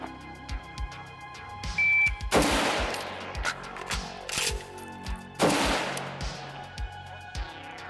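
AK-Niner 5.56 AK-pattern rifle firing cheap dirt ammunition: loud sharp shots in quick irregular bursts, several sharp cracks with heavy echoing blasts, close and alone with no talk.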